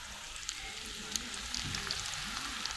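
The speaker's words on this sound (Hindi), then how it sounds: "प्याज ब्राउन हो रहा है।" Onions browning in a pan on a village kitchen stove, a faint, steady sizzle and fry crackle with small scattered pops, quiet and continuous.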